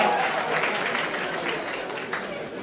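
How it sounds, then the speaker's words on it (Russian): Party guests at a Crimea and Caucasus themed celebration applaud, a dense, steady round of clapping that slowly fades, with voices chattering and calling out through it. "Ваши полные аплодисменты."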